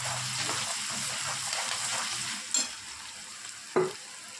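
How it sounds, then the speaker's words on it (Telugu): Spiny gourd frying in oil with ginger and garlic produces a continuous close sizzle, with stirring scrapes and two sharper utensil knocks toward the end, no speech. "నూనెలో ఫ్రై చేసుకుంటా మస్తు ఉంటాయి ఫ్రెండ్స్"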